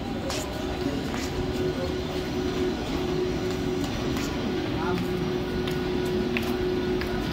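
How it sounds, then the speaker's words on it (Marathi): A fast Central line local train bound for Badlapur stands at platform 3 of a Mumbai station, its steady rumbling hum filling the platform continuously, with a constant electrical whine and faint station noise. "प्लॅटफॉर्म क्रमांक 3 पर आई हुई लोकल 10:37 की बदलापुर जाने वाली तेज लोकल है।"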